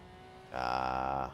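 Porsche GT4 Cup race car at Sachsenring, engine held at full throttle: a sustained, steady harmonic drone that swells up abruptly partway through, holds loud and even, then eases off at the end.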